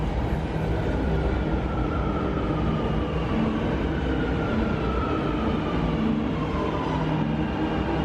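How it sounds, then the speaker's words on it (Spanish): A Buenos Aires subway train rumbles steadily into a station, a continuous low roar with faint rising whine from the motors, fairly close and uninterrupted. "quise mostrarles otro tren entrando a la estación"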